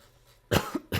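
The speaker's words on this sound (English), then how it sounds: "Sorry if you noticed the cough as well." Two sharp coughs from a man still recovering from COVID, close to the microphone: one strong burst with a smaller follow-up, a short pause, then a second burst, with near silence before them.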